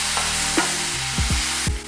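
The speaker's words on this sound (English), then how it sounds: "Can we just stop again and listen to the sizzle?" Steady frying sizzle of mushrooms in a hot pan, a constant crackling hiss with a few clinks and scrapes as they are stirred.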